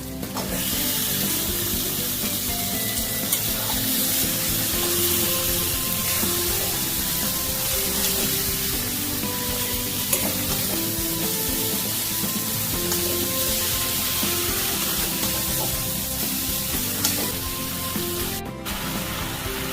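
Pieces of desi chicken sizzling loudly in a hot pan while being stirred, a dense continuous frying hiss with occasional scraping of the utensil, no voices.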